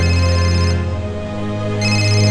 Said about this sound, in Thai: โทรศัพท์ใครมันดังมาตอนนี้